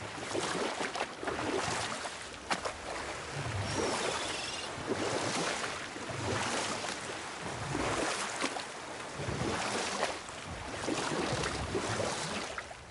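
Oars splash and pull through water in a rhythmic, steady stroke pattern in a God of War rowboat scene, with broadband water wash and lapping continuing throughout, fairly close and no voices.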